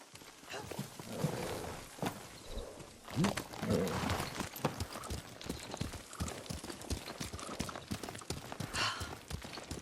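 Horse hooves clip-clop steadily on the ground during a ride in the video game Ghost of Tsushima, close and continuous, with occasional snorts and voices talking over the hoofbeats.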